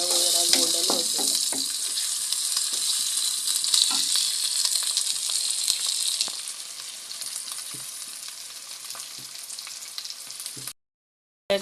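Garlic sizzles and fries in a pan of aloo matar curry, a steady close crackle with stirring scrapes, loud through most of the stretch and then quieter toward the end before a brief gap.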